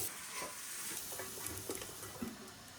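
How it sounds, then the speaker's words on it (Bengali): Potatoes frying with spring onions in a home kitchen give a soft, steady sizzle with faint stirring scrapes, fairly quiet and continuous with no talking. "সকালবেলার কাজ সেরে নিয়ে টিফিন বসিয়েছি, পেঁয়াজ কলি দিয়ে আলু ভাজা করছি"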